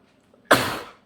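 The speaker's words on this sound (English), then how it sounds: "Oh, sorry, I sneezed." A single sharp sneeze bursts out loud and close during a quiet watercolor painting session, then fades over about half a second.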